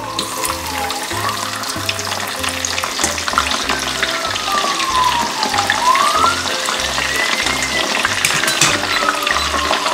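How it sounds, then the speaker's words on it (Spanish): Potatoes fry in oil on their first fry for fish and chips, a loud dense bubbling hiss with a low rhythmic thumping underneath throughout. "Las patatas ya se han enfriado y ahora las vamos a freír por primera vez."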